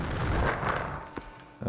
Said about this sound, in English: I don't know why that one exploded in midair.